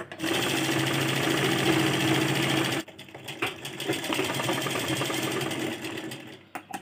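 A sewing machine runs steadily at close range, stitching a children's silk skirt, with a brief pause partway through before it whirs on again at a slightly uneven pace.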